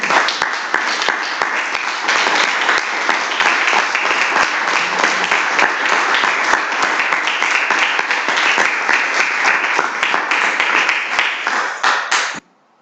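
Church congregation clapping loudly and steadily during a Spanish-language sermon, dense sustained applause for about twelve seconds that cuts off abruptly at the end.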